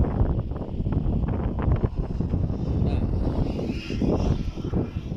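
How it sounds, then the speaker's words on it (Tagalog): Heavy wind buffets the microphone in a constant loud roar, gusting throughout with no clear voices. "Ang laksang hangin."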